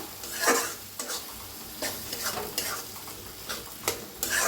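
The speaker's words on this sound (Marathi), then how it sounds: "तर आता छान असं मिक्स करूया." A spoon stirs cauliflower and potato curry in a hot pan, giving close scraping strokes at irregular intervals over a soft constant sizzle, with no talk.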